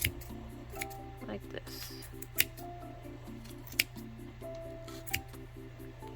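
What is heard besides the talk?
scissors cutting yarn loops of crochet pom-pom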